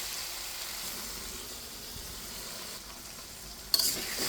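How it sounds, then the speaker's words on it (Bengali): Lentils are stirred and fried in a pan, a soft, steady sizzle at low volume, followed at the end by a brief, sharper clink of a utensil. "ডালটা দিয়ে এখন একটু নেড়ে চেড়ে কষিয়ে নিচ্ছি।"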